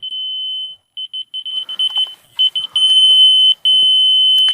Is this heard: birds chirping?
no